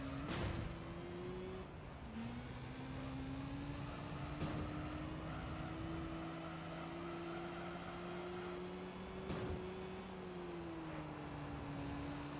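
A high-pitched Honda Type-R car engine in Gran Turismo 3 drones steadily at high revs, almost bike-like, its tone climbing and dipping slightly, with a brief shift partway through and no voices.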